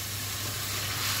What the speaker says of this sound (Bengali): আমি এখন ভাজা মাংসটাকে মশলার সাথে আবার একটু কষায় নেই